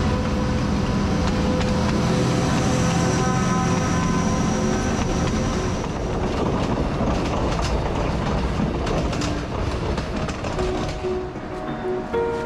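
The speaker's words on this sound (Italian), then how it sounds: "Mi sa che il treno ci ha raggiunti. Eccolo qua dietro di noi." A train rumbles past close by with steady clattering and a rising mechanical roar, continuous and loud throughout.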